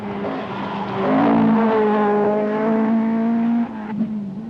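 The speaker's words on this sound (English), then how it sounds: "Austin struggles to control his 270 brake horsepower Manta" A 270 brake horsepower Opel Manta rally car at the 1986 Donegal International Rally revs hard, its engine note rising and falling through gear changes before dropping off near the end.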